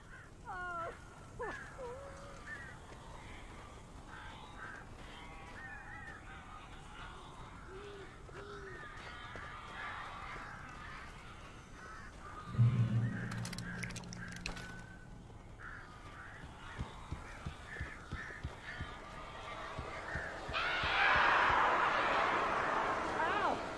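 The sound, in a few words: crows cawing in the video game Alan Wake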